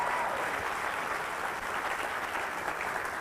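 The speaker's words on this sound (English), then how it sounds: "round of applause for everyone" Steady, dense applause from a cabaret audience, loud and continuous throughout with no voices over it.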